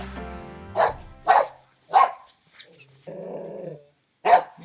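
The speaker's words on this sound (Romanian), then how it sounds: "Cățelul." A dog barks loudly in a series of four or five sharp, separate barks with short pauses, close by, with a brief whine or growl between them and music fading at the start.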